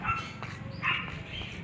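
A dog gives a few short, faint barks and yips in a quiet home setting, spread out over a couple of seconds against low background noise.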